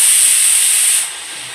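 A pressure cooker cooking masoor lentils lets out a loud, close, sharp hiss of steam that drops off abruptly to a quieter rush after about a second.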